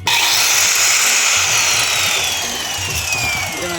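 A Prithvi brand construction machine runs continuously, a loud, steady mechanical whir with a high whine that slowly falls in pitch, close by, and no voices over it.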